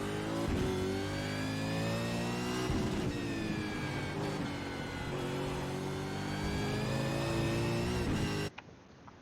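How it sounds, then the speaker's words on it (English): In a racing sim, a V8 Supercar lapping Brands Hatch screams at high revs, its engine tone climbing and repeatedly stuttering against the rev limiter before cutting off abruptly near the end. "So you can let the car hit the limiter"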